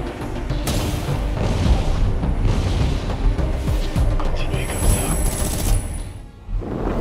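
Game battle in Doomsday Last Survivor, with masses of troops fighting: continuous dense gunfire and booming explosions form a loud, unbroken din that eases briefly near the end.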